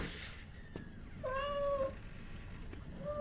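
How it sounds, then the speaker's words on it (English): A cat gives a single clear, drawn-out meow, moderately close against a quiet indoor background. "look at me with the cat, which is technically an animal"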